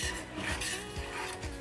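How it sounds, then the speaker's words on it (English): A whisk scrapes quickly through kimchee sauce in a bowl, giving soft, rhythmic swishing strokes, close and quiet, over a brief moment. "I'm going to whisk it,"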